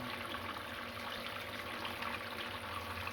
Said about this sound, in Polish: Wodę tłoczę pompką.